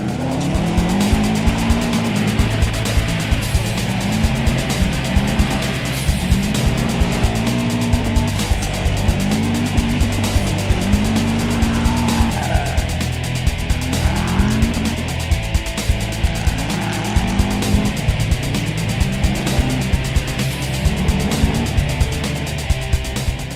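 A Subaru WRX with a stock engine and heavily modified suspension and chassis runs a touge mountain course, its engine rising and falling through repeated shifts while the tires squeal through the corners, loud and steady throughout.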